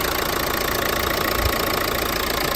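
A used car's engine idles at a car market, a steady, even, fairly loud hum that holds without change through the short stretch, with no voices.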